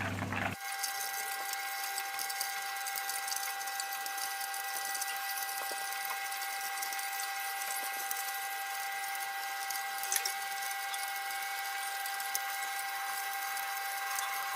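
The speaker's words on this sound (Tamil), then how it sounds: "நெய் ஃபார்ம் ஆகிறதுக்கு முன்னாடி அந்த சத்தமும் இந்த சலசலப்பும் கொஞ்சம் கொஞ்சமாக அடங்குறது தெரியும் உங்களுக்கு." Butter sizzles steadily in a pan as it cooks into ghee, with soft crackling and popping, a close, even frying hiss throughout.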